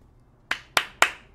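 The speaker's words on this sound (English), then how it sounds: "Clap." Three sharp hand claps ring out close and loud in quick succession, the second and third coming faster, each with a brief decay in a quiet room.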